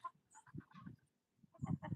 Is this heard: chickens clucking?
yes